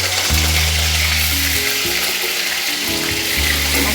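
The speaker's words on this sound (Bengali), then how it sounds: "এবার আমি পনিরটা অল্প হালকা করে ভেজে নেব।" Paneer frying lightly in hot oil in a kadai over a gas flame gives a steady, close sizzle with a low droning hum running underneath.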